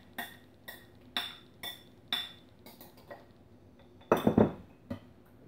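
Fork clinking against a bowl as banana is mixed into wet batter for low-fat chocolate muffins, with several sharp metallic taps spaced a second apart, then a denser burst of scraping and clinks near the end.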